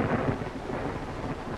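Steady heavy rain pours outside an old dark house in a 1932 film, with low rolling thunder rumbling continuously beneath it; no voices.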